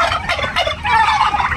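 Four-month-old broad-breasted turkeys gobble in quick, loud, overlapping bursts close by, with no talking.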